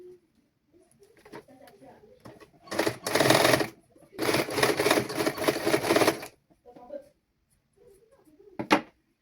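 A sewing machine stitching the round neckline of a child's garment with a cross-cut bias strip, running in two close bursts of rapid mechanical clatter, with someone talking quietly between the runs.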